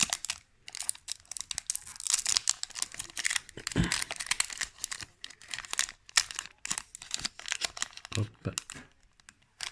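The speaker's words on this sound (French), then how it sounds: "J'ouvre les boosters délicatement, comme ça je vais les conserver pour la collection" Pokémon Paldean Fates booster packs being opened by hand, with crisp foil crinkling and tearing in close, uneven bursts while someone talks softly.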